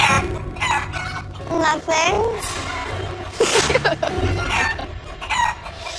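Chickens cluck and crow on a cooking-competition set with a haystack, mixed under children and adults talking and reacting close by.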